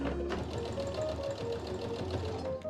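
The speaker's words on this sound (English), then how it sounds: "We just want to sew these together a little bit, so let's see." A sewing machine stitches foam pieces together for a kitchen nook cushion in an apartment, giving a steady fast mechanical whirr with rapid needle clatter that runs continuously and close up.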